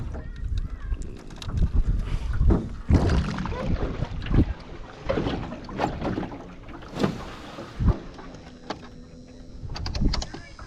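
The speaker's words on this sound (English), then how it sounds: "I'm holding it with the motor, Caleb." Small boat motor running steadily on the water while the boat is held in place, with wind noise and bumps against the hull; people talk briefly nearby.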